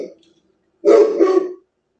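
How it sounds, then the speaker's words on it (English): A Great Pyrenees dog lets out a loud, close bark, a single burst breaking into two quick pulses after a short quiet stretch, with a brief faint sound at the start. "As you can see, she barks a lot."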